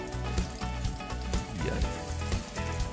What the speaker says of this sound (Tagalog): Ngayon naman, ipirito na natin to.